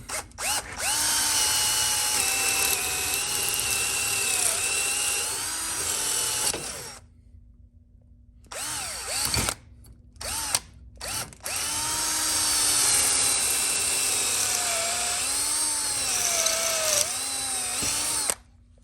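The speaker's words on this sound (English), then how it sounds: "here we go, drill it out" A cordless drill whines loudly and steadily up close as it drills out an axe head with the handle cut off, pausing briefly mid-way with a few short bursts before running long again.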